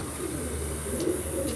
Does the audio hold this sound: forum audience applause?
no